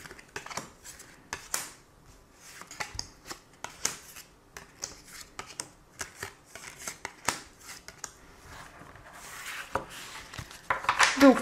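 Tarot cards being shuffled by hand during a reading, a dense run of crisp riffling and sliding card sounds that come close and steady, with no one talking.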